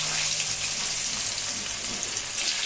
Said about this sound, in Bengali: এবার আমি সবজিগুলো এক এক করে ছেড়ে দেবো।